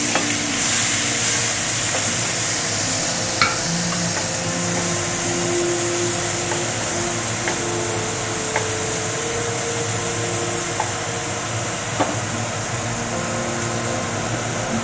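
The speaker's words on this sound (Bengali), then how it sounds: "পেঁয়াজটা একটু আমি নাড়াচাড়া করে একটু লাল করে ভেজে নেব।" Grated onion sizzles steadily in hot oil with cumin seeds, stirred now and then so a few faint scrapes break through the continuous frying hiss, close and even throughout with no talking.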